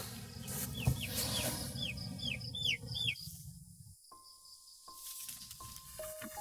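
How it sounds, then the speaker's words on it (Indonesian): A baby chick chirps in a quick series of high, thin peeps against a noisy background, then fades, leaving a faint steady tone. "Ada anak ayam."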